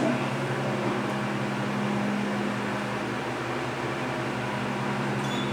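A loud Delaware hydraulic elevator motor runs with a steady broadband whir and a low, constant hum, close and unchanging throughout, with no talking.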